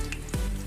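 Netholi (anchovy) fish vada, made with coconut, fry in hot oil, a brief close sizzle with a soft bubbling pop partway through.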